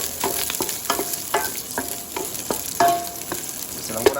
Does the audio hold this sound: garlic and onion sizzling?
yes